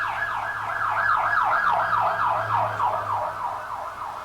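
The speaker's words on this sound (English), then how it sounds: "There goes the ambulance" An ambulance siren wails loudly and close by in fast, repeated rising and falling sweeps that continue steadily throughout, with no voices over it.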